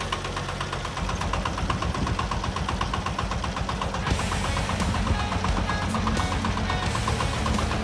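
A homemade mini tractor's small engine runs steadily nearby with a loud, rhythmic knocking chug that stays constant throughout, without any talking.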